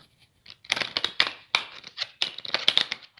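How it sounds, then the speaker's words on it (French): Tarot cards being shuffled by hand, with several crisp riffling bursts of card edges in quick succession, close and fairly loud with no talk. "Je vais le remêler encore une fois avant de mélanger."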